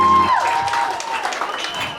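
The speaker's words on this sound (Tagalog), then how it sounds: "Ladies and gentlemen, magpalakpakan mo kasama sigawan naman dyan!" Wedding guests at a reception burst into applause and cheering after the newlyweds are introduced, a dense wash of clapping and crowd noise that follows a brief tone and carries on steadily.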